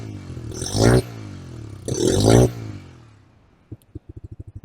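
A Bajaj Freedom 125 motorcycle running on CNG gives two loud bursts of revving that rise and fall, then settles into a quiet, steady putter of evenly spaced idle beats.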